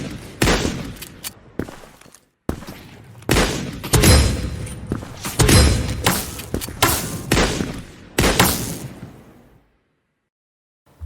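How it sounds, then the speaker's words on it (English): Modded revolver shots from the Krunker video game, a run of loud, punchy pops fired in quick succession with short gaps, each with a sharp attack and brief tail, ending in silence. "the Revolver to have a satisfying pop sound when you fire it"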